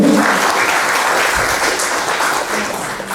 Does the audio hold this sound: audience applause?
yes